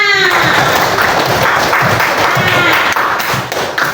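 Children in a classroom break into loud group applause, dense continuous clapping with thumps lasting several seconds and tapering slightly at the end, with voices mixed in.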